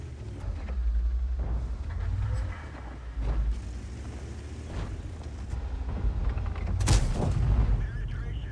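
Tank cannon fire in a tank video game featuring a Tiger II: a series of muffled, booming shots and thuds spaced across the clip, with one sharper, louder blast near the end, under faint commentary.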